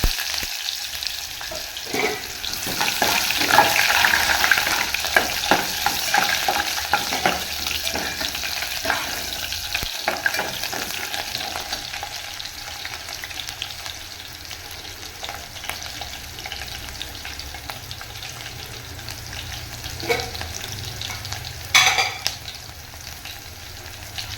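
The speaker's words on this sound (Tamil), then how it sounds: "கடுகு அடிச்சிருச்சு நல்லா வெங்காயம் சேர்த்துக்கலாம்" Onions frying in hot oil with mustard seeds for a black cod and brinjal curry, a continuous sizzle with repeated scraping stirs, close and steady throughout.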